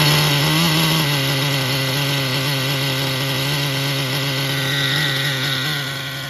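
The nitro engine of a Traxxas Revo 3.3 RC car runs at a high, raspy, buzzing idle that stays steady and loud, easing off slightly near the end.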